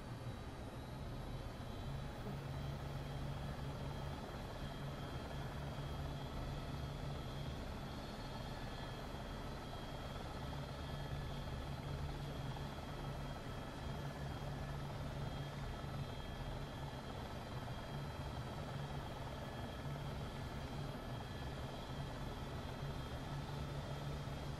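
An AS350 helicopter flying over Bella Coola scenery in the X-Plane 11 flight simulator gives a steady, unbroken rotor and turbine drone with a faint constant whine, even and moderately quiet for the whole stretch.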